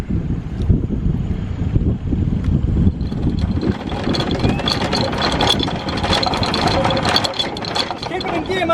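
Sailboat auxiliary engine running in gear after the boat runs aground, a steady chugging drone under gusty wind noise and voices talking close by.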